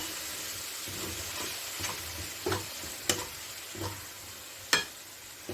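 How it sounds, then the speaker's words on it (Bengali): Chicken pieces coated in spice marinade frying in a wok, a soft steady sizzle broken by several sharp scraping stirs and clatters of the spatula, close up, no speech. "এখন কি হচ্ছে, মাংসটা যা গায়ে মশলা আছে ওইটাই ভাজা হচ্ছে।"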